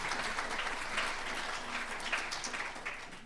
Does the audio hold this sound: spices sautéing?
no